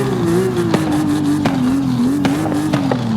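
A car with a twin-turbo F6 engine in Forza Horizon 5, a loud sustained engine drone holding steady pitch with a slight wobble, marked by regular sharp clicks as it runs.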